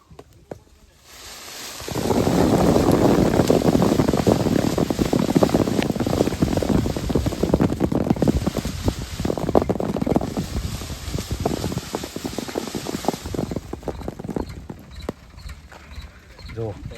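Jamun tree branches being shaken on a farm so the ripe fruits drop, making a long stretch of rustling leaves and a patter of falling fruit, loud and close, with people talking over it.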